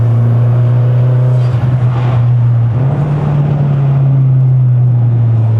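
Turbocharged Mazda 3 MPS pulling uphill on a mountain road, a loud steady engine drone heard from inside the car, its pitch dipping briefly at a gear change and then climbing again, with road and wind noise underneath.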